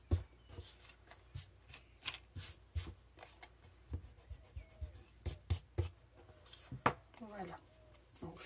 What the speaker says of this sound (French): je vais venir gommer mon trait